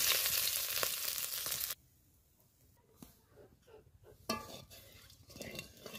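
Shrimp with salt and turmeric frying in a wok, a loud close sizzle that drops away abruptly, followed by quieter clinks and stirring before the sizzle returns.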